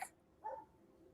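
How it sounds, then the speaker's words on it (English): A neighborhood dog lets out a single short bark, faint and distant, in an otherwise quiet room. "I'm so sorry if you can hear that dog barking too."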